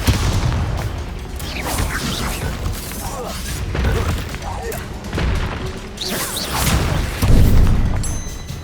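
Confringo fire-blast spells burst repeatedly in Hogwarts Legacy combat, heavy booming explosions and crashing impacts in quick succession, loud and dense with overlapping game effects.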